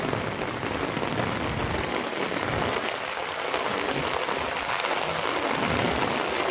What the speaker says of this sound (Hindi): हवा के साथ जो है जोरदार बारिश हो रही है।